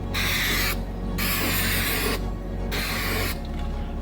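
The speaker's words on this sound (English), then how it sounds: "spray some 3M Super 77 on it to make sure this crap sticks down" 3M Super 77 spray adhesive hisses from a can onto a leaky 1985 Volkswagen door seal in three loud, steady bursts, separated by short pauses.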